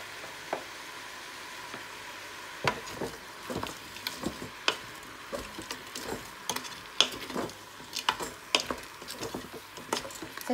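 Olives are stirred into a pan of sizzling seafood and leek sauce, giving scattered spoon scrapes and soft clacks over a low, constant frying hiss, close and moderately quiet.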